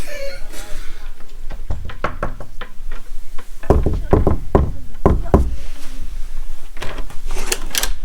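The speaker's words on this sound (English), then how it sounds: "can you go out and then knock on the door?" Knuckles rap on a hotel room door at a Premier Inn in Stoke, in several sharp, close bursts of loud knocks separated by short pauses, with some voices heard between them.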